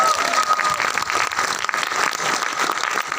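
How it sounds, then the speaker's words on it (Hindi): Enthusiastic audience applause at a business seminar, a dense, steady wash of many hands clapping for a few seconds. "उसके लिए जोरदार तालियां हो जाए"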